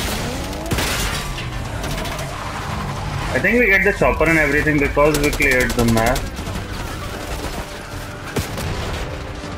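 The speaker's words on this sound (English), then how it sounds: "With explosions and gunfire everywhere." Bursts of gunfire and explosions in the video game Call of Duty: Black Ops 6 rattle through a busy battle, loud and sustained under a player's ongoing talk.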